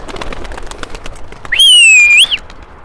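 Pigeons flutter and coo faintly among gusts and rustling on a windy day, then a loud, sustained two-tone whistle rings out close by for about a second.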